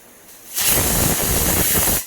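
A pressure cooker whistle releases a loud, steady hiss of steam after a brief quiet lead-in, holding strong for about one and a half seconds before cutting off.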